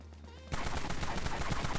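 An XAK-47 rifle in the video game Dead Frontier fires rapid automatic bursts. After a short quiet lead-in, loud, evenly spaced shots rattle in quick succession until the end.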